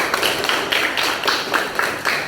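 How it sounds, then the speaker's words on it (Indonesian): A group of children in a classroom claps in a steady, regular rhythm, a continuous run of bright, fairly loud claps. "tepuk tangan dulu"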